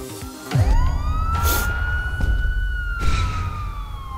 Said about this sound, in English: Okay, police sirens.